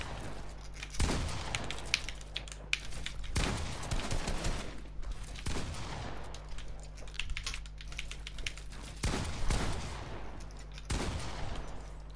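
Bursts of gunfire in Fortnite, several loud rattling volleys spaced a few seconds apart over a steady low background hum, with no talk.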